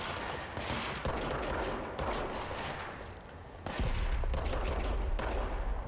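Enemy gunfire in the action game Control, bursts of rapid shots coming in waves, fairly faint overall, then growing louder and heavier toward the end.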